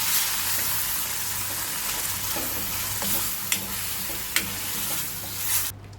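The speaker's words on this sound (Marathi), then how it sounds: "मसाला परतला की त्यामध्ये वाटण टाकणार आहे आणि वाटण परतून घेणार आहे आपण" Ground masala and coconut-onion paste sauté in a pan over a low flame for a Bombay duck and potato curry, giving a steady soft sizzle with a few sharp spoon scrapes and knocks, close up and with no voices.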